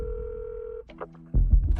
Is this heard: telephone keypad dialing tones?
yes